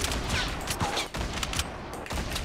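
Rapid bursts of gunfire from a Fortnite match crackle loud and close, in quick overlapping volleys with brief gaps, with no talk over them.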